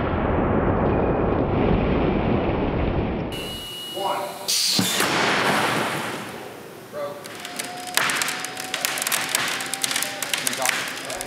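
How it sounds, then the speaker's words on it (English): An impact cannon in a window testing lab fires a shot at a window unit, making a sharp, loud bang followed by a ringing, clattering tail and steady machinery hum. "So we're gonna fire one more shot from the impact cannon"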